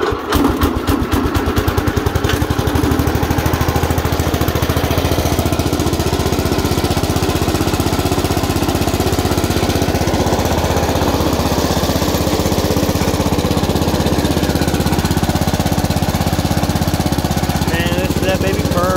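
A 1964 Cub Cadet 100 garden tractor's small engine starts up and runs steadily and loudly close by, with a dense rattling drone throughout and some talk over it.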